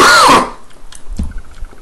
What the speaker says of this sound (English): I've started coughing again, and I'm still coughing